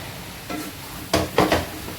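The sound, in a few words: stirring soya chunks into biryani masala in a pot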